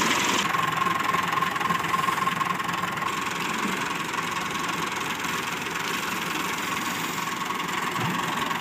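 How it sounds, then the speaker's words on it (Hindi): A tubewell pump engine runs on a farm, giving a steady, continuous mechanical drone with faint knocking texture, loud and unbroken throughout with no talking. "ये ले अभी ट्यूबवेल चलेगा।"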